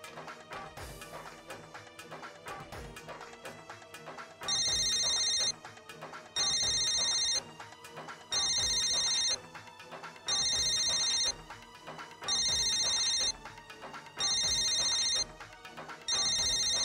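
A telephone rings in a domestic scene, repeated bright electronic rings in a steady pattern of about two-second bursts with short gaps, heard over a continuous music backdrop.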